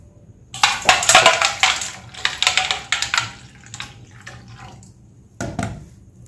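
Lentils (dal) being washed by hand in water, with close sloshing, swishing and splashing that rises in dense bursts, pauses, then returns briefly, with no talking.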